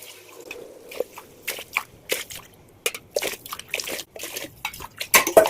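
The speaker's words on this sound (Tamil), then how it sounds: "அதனால் ஆறு கப் அளவுக்கு தண்ணி வந்து ஊற்றிக்கிறேன்" Six cups of water are poured into a pot for cooking rice, heard as a series of close splashes and sloshes with metal clinks between pours and no talking.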